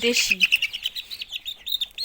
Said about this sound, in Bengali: দেশি মুরগির বাচ্চা।